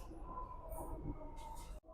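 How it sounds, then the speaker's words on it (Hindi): A Delhi metro train arrives at a station with a continuous rumble of wheels and carriages, a brief high squeal of the wheels, and a sudden drop just before the end as it slows. "ये दूसरी वाली मेट्रो भी आ गई है।"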